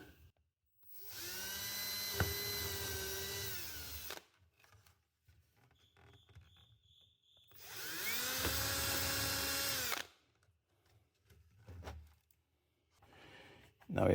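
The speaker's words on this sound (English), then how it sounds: "we're just gonna drill out these 2 middle ones" A power drill whirs twice in separate bursts of a few seconds each, drilling mounting holes in a breaker box, with quiet pauses and faint handling noises in between.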